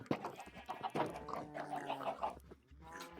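Minecraft chickens cluck in a short, busy burst of game sounds, with several soft clucks and other farm-animal noises overlapping through the clip and no voice over them.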